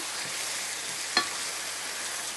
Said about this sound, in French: On enrobe bien nos légumes de miel.